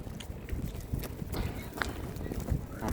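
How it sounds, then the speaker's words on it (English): Horses' hooves clip-clop on a hard surface at a walking pace in Vienna, Austria, with voices and street bustle mixed in around them. "More horses."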